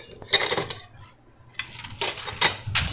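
Whisk clattering against a pot or bowl while stirring caramel mixture for popcorn, quick metallic scraping and clinking in short bursts, close, with no talking.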